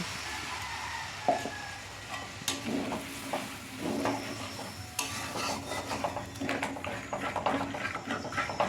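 Turmeric and chili powder being stirred in a pan for ghugni, with irregular close scraping and clinks of a spoon against metal over a faint sizzle, no speech.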